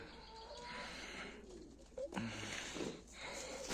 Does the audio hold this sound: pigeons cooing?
yes